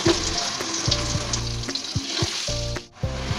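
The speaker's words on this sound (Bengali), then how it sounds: "এখন এগুলো একটু লাল লাল করে ভাজবো।" Parboiled potato pieces seasoned with salt and turmeric frying in oil, a loud close continuous sizzle and crackle, with faint tonal hum underneath and a brief dip near the end.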